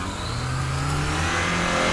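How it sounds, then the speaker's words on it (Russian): A Lada Niva's engine labors and revs steadily under heavy load off-road, a loud, continuous mid-pitched drone with rising strain. "Очень тяжело автомобилю."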